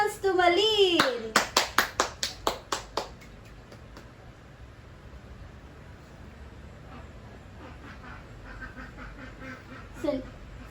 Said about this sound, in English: Clap your hands to Malin.